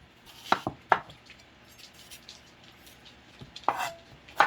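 A knife chops onion on a board while kimchi is made from young radish, with a few sharp, close knocks spread apart over a quiet background.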